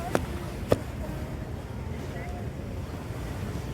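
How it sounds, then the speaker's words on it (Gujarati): Strong wind on Toronto Island buffets the microphone in a steady low roar, with a couple of brief knocks near the start and faint voices in the background. "અત્યારે છાયામાં છે ને પવન એટલો જબરજસ્ત ચાલે છે"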